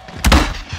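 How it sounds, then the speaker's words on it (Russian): A smoke grenade is thrown in Call of Duty: Warzone and lands with a single close, dull thunk followed by a short soft rumble. The sound is brief and stands alone without voices. "Кидаю дымовую."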